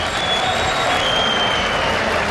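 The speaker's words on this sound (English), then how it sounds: "They cheer when I speak in English or when he speaks in Polish" Dense, steady crowd roar and applause filling a large arena at the IEM Katowice League of Legends grand final, broad and continuous for the whole stretch with no single voice standing out.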